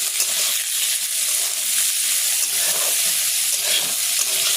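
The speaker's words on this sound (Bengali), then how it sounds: "এই ছোলাটা একটু ভাজা হোক।" Soaked chickpeas fry in a pan with a dense, steady sizzle and hiss, close and loud, with occasional scraping as they are stirred and no talking.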